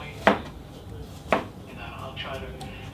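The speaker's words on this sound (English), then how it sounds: "as you see, I'm dicing up the apples" Two crisp knife strikes about a second apart as apples are diced on a cutting board for apple pie stuffed French toast, close and clear over a quiet kitchen background.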